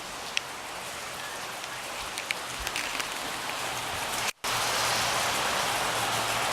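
Steady rain pours in Thousand Oaks, a dense constant hiss with scattered drop ticks, briefly cut off and then returning louder.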